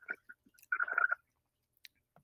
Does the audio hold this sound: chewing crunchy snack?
yes